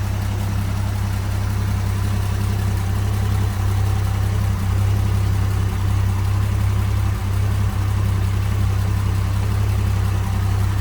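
A 1935 International C-30 fuel truck engine idles steadily with a low, even rumble, running smoothly without revving throughout.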